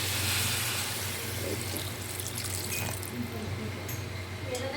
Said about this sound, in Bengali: এখানে জল দিয়ে দিচ্ছি অল্প পরিমাণে